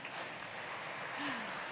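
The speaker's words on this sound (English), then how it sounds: "An applause, please." Applause on stage at a G7 health event on active ageing, a steady, moderately faint wash of clapping with a brief voice underneath.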